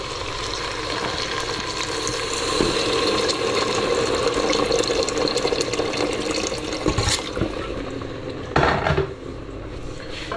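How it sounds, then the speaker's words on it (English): Water pours steadily into a pot of caramelized vegetables, a continuous close splashing and hissing stream lasting several seconds, with faint clinks of the pot toward the end. "At this point I'm going to add water."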